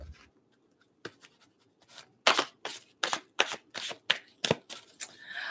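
Cards shuffled by hand in a tarot or angel card reading, a quick series of crisp riffling bursts and slaps, close and distinct against near silence.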